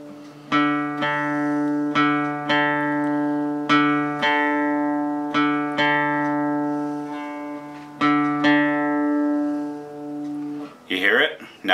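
Acoustic guitar being tuned by ear, two strings plucked together again and again in slow rhythm, the notes ringing near and clear until a brief rustle at the end.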